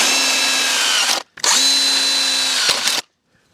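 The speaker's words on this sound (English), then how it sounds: "drill a hole through the post" A power drill bores a hole through a wooden fence post for horse fencing. It makes two loud, steady whining runs of about a second each, separated by a short stop, then falls silent.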